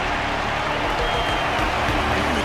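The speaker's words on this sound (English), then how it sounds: "Their constant applause is a salute to this resilient Belabogian fighter." Crowd applause at a martial ceremony in the video game Honkai Star Rail, a dense, continuous patter of clapping that holds steady throughout the short stretch.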